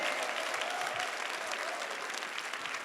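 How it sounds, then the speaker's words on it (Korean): Steady applause from a church congregation during a 2019 worship service, a dense, even wash of clapping that fills the whole stretch without voices. "주님께 감사의 박수를 올려드리겠습니다."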